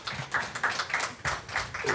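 Conference audience applauding in a room after a fintech panel session, steady dense clapping from many hands with slight swells, fairly close and continuous throughout.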